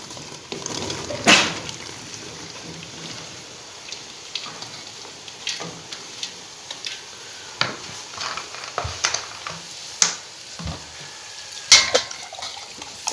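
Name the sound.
pumpkin added to frying chicken, sizzling and stirring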